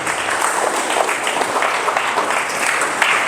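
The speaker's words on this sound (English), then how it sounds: "A round of applause for him." Audience at a poultry farming management seminar gives a round of applause, loud, close clapping from many people sustained evenly across the whole moment, alone without speech.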